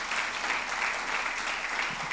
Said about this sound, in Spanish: Y si tú vas a aplaudir, aplaude fuerte